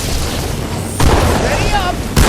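Grenade blasts in Halo 2 Anniversary land as two sudden booming impacts, the first followed by a ringing, whistling tail and the second cutting in near the end, amid game speech and battle noise.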